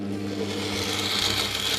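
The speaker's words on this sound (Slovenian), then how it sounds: "Zdaj pa tole zmiksamo." A blender mixes sweet ingredients with added sugar, a steady, close motor whir with a buzzing hum that holds at an even level throughout.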